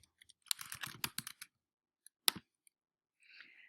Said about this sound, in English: you can just start typing a specific student's name